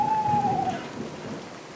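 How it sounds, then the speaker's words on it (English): Steady rain hisses in the video game Boogeyman, with a thin tonal whistle over the first half second and a broad low rumble of thunder beneath; the storm stays loud and constant throughout. "if only the rain would stop, that'd make my life totally easy"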